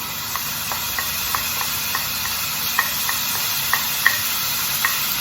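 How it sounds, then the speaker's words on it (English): Onions sizzling in warm oil for githeri, a steady bright frying hiss with scattered pops and the occasional scrape of stirring, close up and without speech. "once the oil is warm enough, at this point then we add onions"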